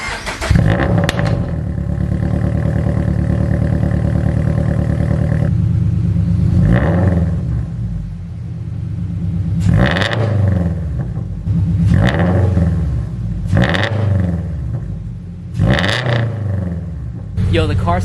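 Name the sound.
2022 Subaru BRZ cold start with UEL header and tune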